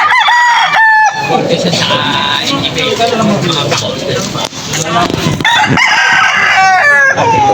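A lemon sweater rooster crows loudly and close at a rainy pet market, with repeated crowing bursts at the start and near the end and busy crowd noise and voices in between.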